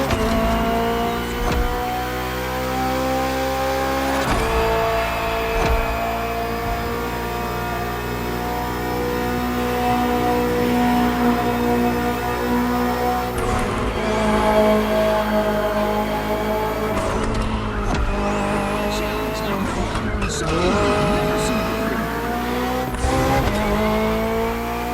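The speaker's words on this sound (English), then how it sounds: "Finally, the BMW M Hybrid V8. What a beast." A BMW M Hybrid V8 endurance race car from 2023, built for races like the 24 Hours of Le Mans, drives in The Crew Motorfest, its loud engine droning steadily and rising and falling through gear shifts for a long stretch, with no voices.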